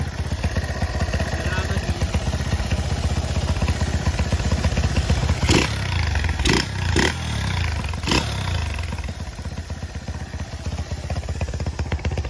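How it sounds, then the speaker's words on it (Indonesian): A Honda CB motorcycle engine runs steadily at close range, a rough continuous rumble with light mechanical clatter and a few sharp knocks partway through. "Sam, kita cek sound. Mesinnya seperti ini ya"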